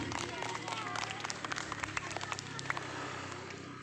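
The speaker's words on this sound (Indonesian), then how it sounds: "Tepuk tangan yang meriah sekali." Lively clapping from a crowd at a school Ramadan THR games event, a dense continuous patter of hands with voices and cheers mixed in throughout.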